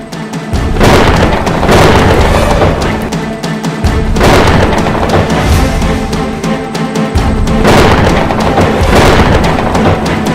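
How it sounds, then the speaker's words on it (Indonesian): A loud, dramatic thunder-and-lightning strike effect from a fantasy drama rumbles in three long booming waves, each building and crashing, filling the whole scene with no speech. "Kalau petir ini menyambar pada Duyung, akan terjadi sesuatu yang dahsyat."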